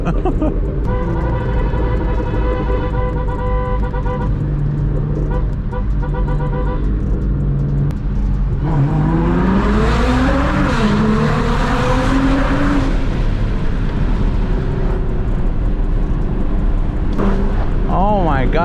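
A Nissan GT-R accelerates hard to pass on a canyon road with BMWs nearby. The engine note climbs in a loud rising surge midway, then settles back to a steady drone. Speech runs over the engine noise.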